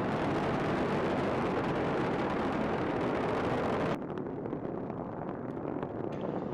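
Space Shuttle main engines roar during launch with a dense, steady rumble at a distance, then the sound abruptly thins and softens partway through as they throttle back to 72%.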